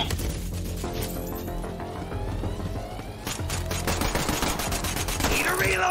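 Rapid automatic gunfire from the video game Borderlands 3 rattles continuously and loudly, with dense bursts and crashing impacts layered together, while game voices talk over the shooting.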